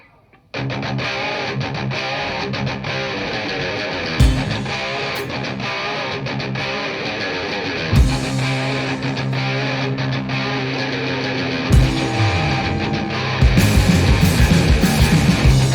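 Pigsx7 performing their noise rock track World Crust live at Blank Studios: a dense, loud wall of distorted guitar and sustained droning tones that runs continuously, with heavier low-end surges partway through and near the end.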